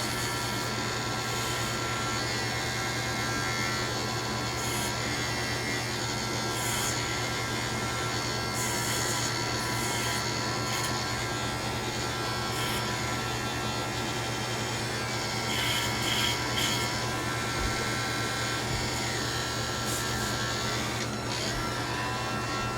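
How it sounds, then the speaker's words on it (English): A Dremel rotary tool cleans off wires on a 350 TOS model, a steady high-pitched electric whine with a constant hum running the whole time, close and fairly loud, no talking. "take my Dremel and clean off these wires"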